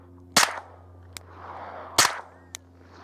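Two suppressed handgun shots firing 115 grain ammunition outdoors at a busy range, each a sharp loud crack spaced well apart, with fainter distant shots from other shooters in between.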